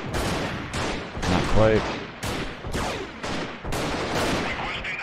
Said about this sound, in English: Ooh, that was a good shot.